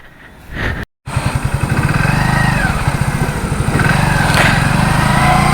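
A Hero Splendor Plus motorcycle on the move, its small single-cylinder engine thumping in a steady fast pulse, loud and close after a brief dropout, with wind rush over it.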